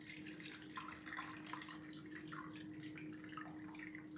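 Toor dal is rinsed in a glass of water, with soft trickling and scattered drips, faint and close with no talking.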